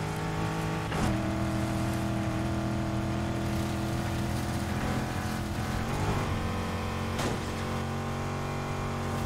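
Car racing in Need for Speed Heat with police on the road, a loud sustained engine drone that shifts pitch with gear changes and revving, with no talk.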